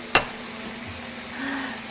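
A stick of vegan butter drops into a hot pan of sausage stuffing with one soft thud. A low, steady sizzle and faint stirring follow, close and fairly quiet.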